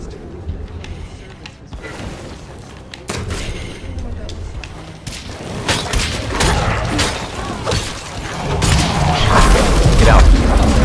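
Gunfire and heavy impacts in the zombie survival game State of Decay 2, a rising cluster of booms, thuds and crashes that grows louder and denser toward the end.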